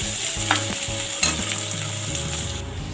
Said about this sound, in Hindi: प्याज को ब्राउन होने तक भून लें अच्छे से